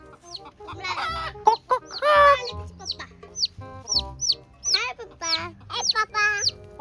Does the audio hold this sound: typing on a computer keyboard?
no